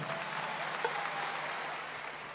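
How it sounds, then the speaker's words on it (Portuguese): Applause from the audience at a live concert in the Altice Arena, a broad, distant-sounding roar of clapping that stays fairly even and soft throughout the short stretch. "uma salva de palmas bem forte"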